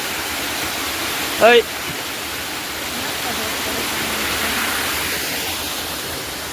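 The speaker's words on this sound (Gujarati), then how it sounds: "આમ જો ધોધ મિત્રો." A waterfall near Parvati cave in Pachmarhi gives off a steady, broad rushing roar, with a brief spoken word cutting in near the start.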